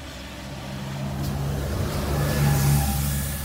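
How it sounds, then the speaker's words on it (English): Brylands bus passing the level crossing at Metheringham railway station, a diesel engine drone building as it nears and growing louder toward the end, with low engine tones and faint road rumble. "here's a Bryland bus"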